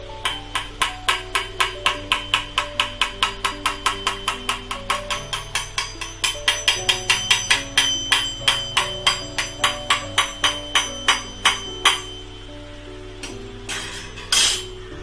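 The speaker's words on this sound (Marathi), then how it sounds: "हा झारान आपण असा हलवत राहायचा." Slotted spoon (jhara) stirring boondi in a pan, producing a long, steady series of sharp metallic clinks about three per second, close and bright, that slow and turn irregular near the end.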